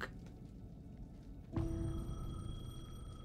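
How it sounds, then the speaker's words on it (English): A payphone in the video game Alan Wake 2 begins ringing partway through, a steady electronic tone rising out of a low dark ambient rumble, moderately loud with no speech. "The payphone was ringing."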